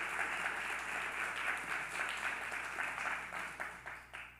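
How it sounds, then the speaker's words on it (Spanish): Church congregation applauding during a Spanish-language service, a dense wash of clapping heard from a distance that is fairly faint, steady at first and then thinning out into scattered claps toward the end. "Denle ese aplauso al Señor."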